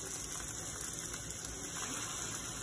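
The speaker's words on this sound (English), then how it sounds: "we will almost immediately get the schnitzels into the pan, like so. All right. Nice sizzle on that." Turkey schnitzels sizzling and crackling in hot oil in a pan, a steady, dense frying hiss that stays close and fairly loud throughout, with no talk over it.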